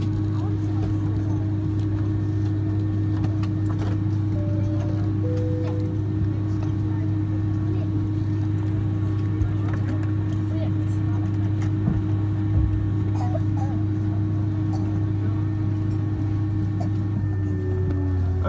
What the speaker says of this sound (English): Just need to wait for the engine to shut down.